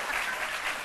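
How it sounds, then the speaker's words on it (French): A French television studio audience gives a brief burst of applause, a steady soft wash of clapping lasting under a second. "Applaudissez!"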